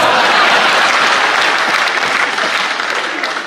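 Loud, dense applause from a large audience at a Hindi comedy poetry gathering, steady throughout and tapering slightly near the end.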